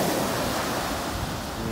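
Ocean waves roll onto a beach at sunset as a steady, close wash of surf with some wind noise, and no voices are heard.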